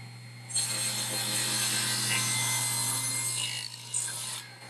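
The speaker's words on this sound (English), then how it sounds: "we're gonna take this to the table saw and cut out a tongue on both sides" Table saw ripping a tongue into a wooden board, a steady motor hum rising into a loud, sustained whining cut for about four seconds before easing off, close and without talk.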